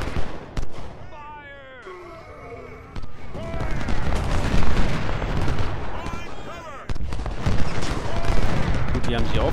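Repeated heavy booms of cannons firing in the Civil War battle game Ultimate General: Civil War, with gunfire-like bursts, sustained rumbling action and a voice talking over parts of it.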